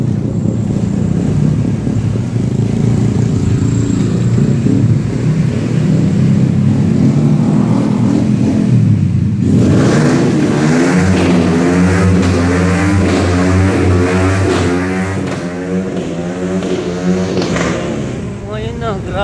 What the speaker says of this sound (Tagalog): Ngayon na, grabe yung pinaano na yung tambutso eh. Ingay ah.